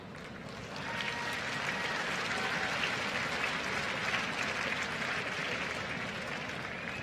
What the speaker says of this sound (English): nice applause for Gra Lederdale T.